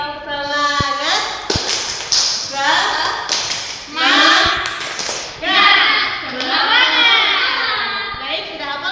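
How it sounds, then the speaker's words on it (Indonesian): A classroom of pupils performs tepuk semangat, a rhythmic group clapping chant, with sharp hand claps punctuating loud children's voices chanting and calling out in patterned bursts nearby. "Kita tepuk semangat."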